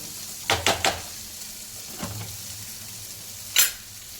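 Prawn masala cooks in a pan with a soft, steady sizzle. A few quick scraping stirs come early, then a single clatter, all close and fairly quiet.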